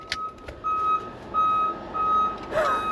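Gas delivery truck backing up near an outdoor cooking spot, its reversing alarm sounding a steady series of loud, evenly spaced electronic beeps over low idling engine rumble, with a brief hiss near the end.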